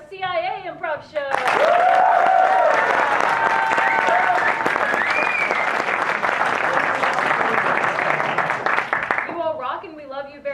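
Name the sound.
audience applause at an improv show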